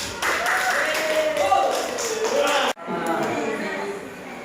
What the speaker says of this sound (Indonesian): kita kasih aplaus yang meriah untuk kelompok 1